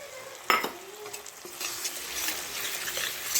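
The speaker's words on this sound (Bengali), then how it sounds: "এই যে খন্তিতে ভালো করে এটা কষিয়ে নেবো" Spice paste sizzling in a pan as a spatula scrapes and stirs it, with a sharp clank near the start and a steady hiss after.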